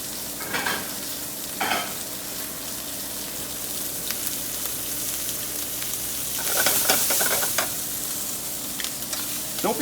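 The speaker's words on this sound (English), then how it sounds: "At this point, I'm going to add prosciutto to the pan." Diced prosciutto di Parma sizzles steadily in a hot pan with pork tenderloin, a continuous loud frying hiss broken by occasional scraping stirs, with a brighter burst of crackling partway through.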